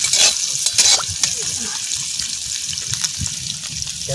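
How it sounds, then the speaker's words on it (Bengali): Carrots and capsicum hitting hot oil for village-style veg chowmein, a bright steady sizzle with a few stirring clatters at the start, close and loud, with no one talking. "তেল চলে এসেছে, এবার আমরা গাজরগুলোকে দিয়ে দেবো।"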